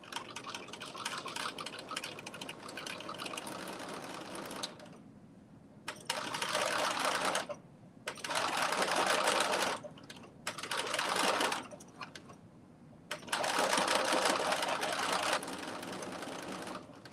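A sewing machine stitches a row in the seam allowance of a McCall's 8142 garment, running in five or six loud, close bursts of rapid whirring separated by short pauses.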